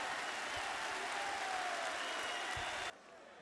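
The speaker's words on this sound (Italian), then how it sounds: "un grande applauso a Paolo Dybala" A large crowd at the Colosseo Quadrato in Rome applauds Paulo Dybala's presentation as an AS Roma player, a loud, continuous wash of clapping that cuts off abruptly near the end.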